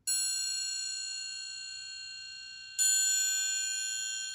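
Two ringing strikes on an orchestral triangle, played with a falling-into-the-instrument technique; the first rings out and decays for nearly three seconds before a second bright strike, each leaving a long shimmering sustain, with no voices.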